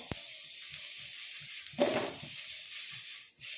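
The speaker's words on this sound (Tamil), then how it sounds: "இப்போ இந்த மூணையும் நல்லா நம்ம ஃப்ரை பண்ணி எடுக்க போகிறோம்" Curry leaves frying in a pan for a homemade hair dye give a steady, bright sizzle throughout, with a brief louder crackling burst partway through.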